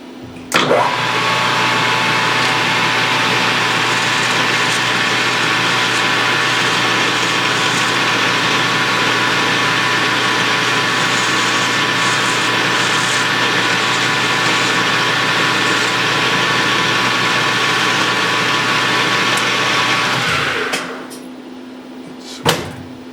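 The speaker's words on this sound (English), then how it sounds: "we'll run a stone over them and get some of the burrs off" A motor-driven stone deburring the teeth of a small gear runs as a loud, continuous grinding whine for about twenty seconds, then spins down and stops near the end.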